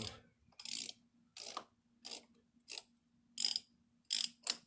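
Ratchet tightening a fitting on a hydraulic clutch: eight short bursts of clicking, close and fairly loud, separated by brief pauses, with a faint steady hum beneath.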